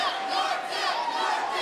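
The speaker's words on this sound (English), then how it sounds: "As the crowd is chanting York Yells" A crowd chanting at a national axe throwing championship, rhythmic massed voices yelling in unison, loud and continuous with a pulsing cadence throughout.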